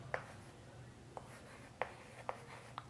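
Marker or chalk strokes on a board during a class on semiconductors and energy bands in solids, several short, faint taps and scratches spaced apart over a low steady hum.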